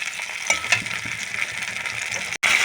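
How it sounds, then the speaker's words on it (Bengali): Cashew and tomato paste fries in a pan with a close, steady sizzle. A few light stirring clinks come through, and there is a brief cut to silence near the end. "এখন আমি দিয়ে দেবো কাজু ও টমেটোর পেস্ট। খুব ভালো করে আমি কষিয়ে নেব।"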